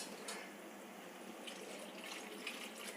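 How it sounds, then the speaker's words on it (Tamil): Water poured into a cooking pot while making lunch, a steady soft rushing stream, close and quiet, with no talking. "கொஞ்சம் தண்ணி சேர்த்துக்கிறேன்"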